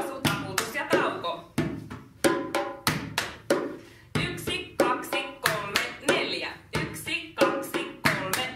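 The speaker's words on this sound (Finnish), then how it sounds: "Polkaisu, polkaisu, taputus ja tauko" Foot stomps and hand claps in a repeating stomp-stomp-clap-pause pattern at a children's music session. The beats are close and sharp, and a voice chants along with them.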